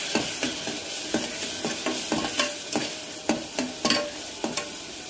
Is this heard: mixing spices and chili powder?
yes